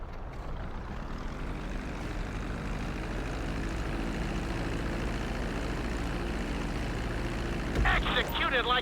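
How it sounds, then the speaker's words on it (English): A propeller airplane's engine drones steadily as it descends toward a runway in the GTA V video game, a continuous, even hum that lasts throughout. "reducing the plane's altitude gradually so you're just above the runway as you approach"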